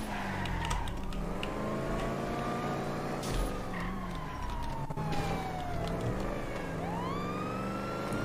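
Police car sirens wail in the GTA V video game, with several rising and falling tones overlapping at moderate level against traffic and engine noise throughout.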